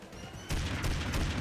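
A sudden burst of rapid gunfire in the video game Family Guy: Back to the Multiverse erupts after a short lull, loud and dense, like automatic weapons firing in quick succession.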